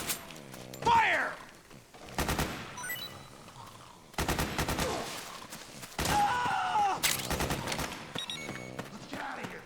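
Soldiers exchange gunfire in Metal Gear Solid 4: several rapid automatic bursts crackle through the scene, mixed with thuds, groaning voices and battle noise.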